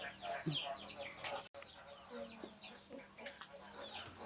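Chickens are let out of a breeding pen at a Thai poultry farm, with repeated clucks and short calls from several birds, fairly close, over a soft outdoor background.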